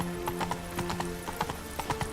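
Roach the horse trotting in The Witcher 3, a steady run of hollow clip-clop hoofbeats in quick, uneven pairs, close and clear over a low background hum.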